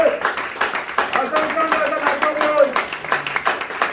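A church congregation claps along during worship acclaiming the Lord, the steady rhythmic clapping running throughout beneath a loud voice.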